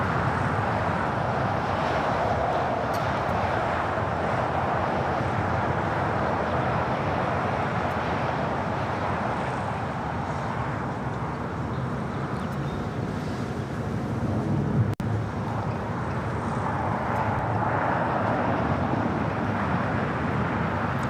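An Airbus A350-1000 airliner pushes back from the west gates at LAX amid a steady, broad, wind-buffeted jet roar from the airfield, continuous and fairly loud with no talk.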